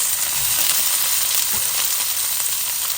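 Chopped celery, carrots and onion sizzling in hot olive oil in a pan, a dense, even, close crackle with no talking.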